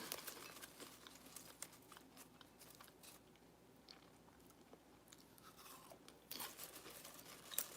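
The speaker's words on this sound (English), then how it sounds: "don't mind me, I'm just eating my popcorn" Popcorn being eaten, faint crunching and chewing bites scattered through a quiet indoor setting, soft and close with no talking.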